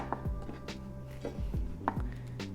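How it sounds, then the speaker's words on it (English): Green onion stalks chopped with a knife on a board, several quick sharp knocks in an uneven rhythm, close and clear with no talking. "So let's chop the onions."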